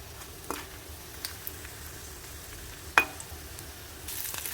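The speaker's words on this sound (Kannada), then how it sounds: "ಇಷ್ಟನ್ನು ಪರಿಮಳ ಬರುವವರೆಗೆ ಫ್ರೈ ಮಾಡಿ" Urad dal, coriander seeds, cumin and asafoetida fry in a pan for a breadfruit peel chutney. The sizzle is soft and quiet, with a few sharp taps and clinks and a slight swell at the end.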